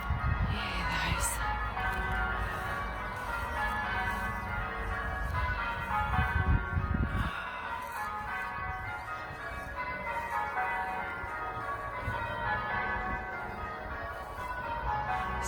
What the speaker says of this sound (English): The bells have started again.